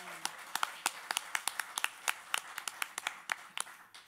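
Sparse, distinct claps from a small audience at a poetry open mic awards event, individual hand claps ringing out unevenly and fairly quietly, as if only a few people are clapping.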